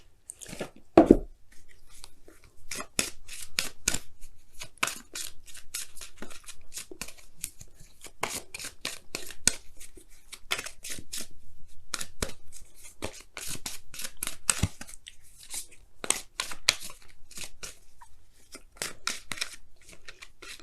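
Romance Angels oracle cards shuffled and pulled from the deck, a steady run of crisp, close riffles, slides and flicks with a sharp snap near the start, alone without talk.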